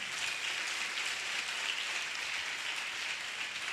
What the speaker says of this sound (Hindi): ताली बजानी है तो जोर से बजाओ।